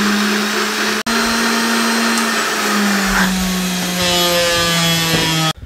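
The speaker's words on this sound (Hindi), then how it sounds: "इसको हल्का सा ग्राइंड कर लें 30 सेकंड, 20 से 30 सेकंड" An electric grinder whirs through tomato chutney, a loud steady motor drone that holds for about five seconds, dips briefly near the start, shifts pitch slightly partway through, then cuts off abruptly.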